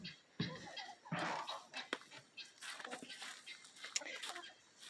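A broody hen clucks and grumbles in short irregular bursts, close by and fairly quiet, after being handled for cleaning.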